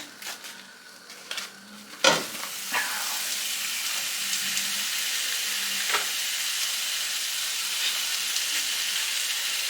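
Ground beef browns in a pot for a batch of beef stew meant for canning, giving a steady, loud sizzle and hiss after a few early clanks of utensils against the pot. No one speaks.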